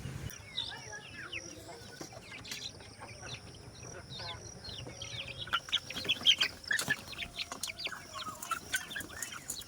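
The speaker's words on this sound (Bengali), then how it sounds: "মুরগিকে খেতে দেবো এবার।" Backyard chickens clucking and chirping while being fed leftover rice and day-old curry, their busy, overlapping calls close by, with faint background voices and household sounds.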